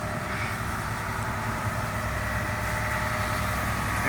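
A tractor engine idles in a low, steady rumble while it dumps a harvest load, a constant hum with no change in pitch and no voices over it.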